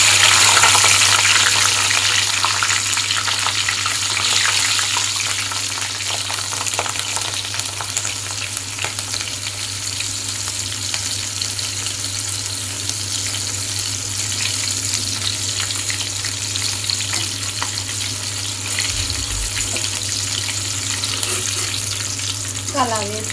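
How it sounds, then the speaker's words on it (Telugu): Slit green chillies frying in oil alongside tuna fish fry, a loud continuous hissing sizzle that stays even throughout with faint stirring underneath. "ఫైనల్గా పచ్చిమిర్చి వేసి వేయించుకుందాం"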